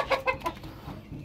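A pure Brazilian Rapido chicken, a laying hen, clucks close by in three or four short, loud bursts that fade into quieter clucking.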